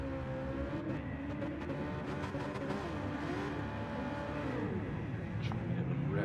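A race car engine in a Gran Turismo-style racing game at Mount Panorama, droning steadily with rising and falling revs as gears change, under a commentator's continuous talk.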